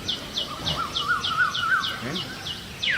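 Birds chirp in a quick repeating series of bright, high tweets, fairly close, with faint background noise and no speech.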